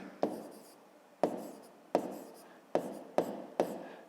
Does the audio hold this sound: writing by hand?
yes